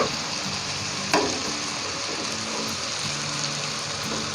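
Chicken lapeta pieces frying in hot oil in a pan, a steady close sizzle with light crackling and a single clatter of turning, with no talking.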